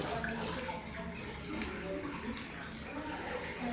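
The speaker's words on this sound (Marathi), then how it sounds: "आता हे पाणी फुल प्रेशरनं चालू आहे" Water gushes at full pressure from a broken household tap that will not shut off, a steady, fairly soft rushing hiss running unbroken throughout.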